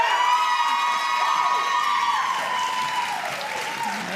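A crowd at a Teacher of the Year celebration cheers and applauds for an elementary school teacher, with steady clapping, whoops and shouts that sound close and full.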